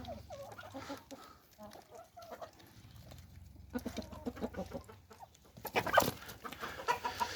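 Chickens, including a rooster, cluck and squawk nearby in an irregular flurry on a village farm, growing busier toward the end, with faint farmyard background.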